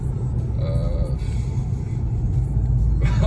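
A Golf 7 GTI 230 hp engine rumbles with a deep, steady low-frequency drone, growing slightly louder toward the end, heard close up from inside the car.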